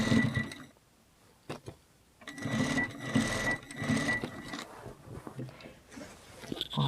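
A sewing machine stitches a linen apron in a few short runs with quiet pauses between them. The runs are moderately loud and carry a rattling, rhythmic needle sound.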